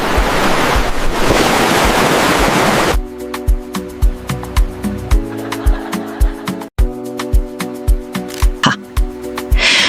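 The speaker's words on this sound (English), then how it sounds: "Outside, the waves continued rolling peacefully toward the shore." Ocean waves roll toward the shore in a loud, broad wash, then give way to a steady rhythmic pulsing with a tonal bed beneath, like gentle surf under a music background.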